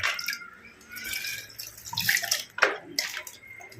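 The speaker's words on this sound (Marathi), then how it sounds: "या पाण्याने ही सगळी रोपं धुवून घ्यायची आहेत म्हणा किंवा यावरती स्प्रे करायचं आहे" Water from a two-litre spray bottle sprays and splashes onto the leaves of potted balcony plants in short bursts, close by, with uneven spurts and soft dripping between them.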